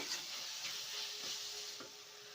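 A faint, steady sizzle of spices being stirred into fish-head moong dal in a hot pan, with soft scraping strokes and no voices.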